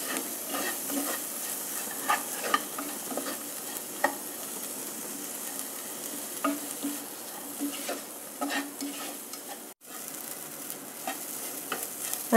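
Tomatoes and onions sauté in a pan for chickpea masala, a steady soft sizzle broken by regular scraping stir strokes from a spoon, fairly close, with no talking.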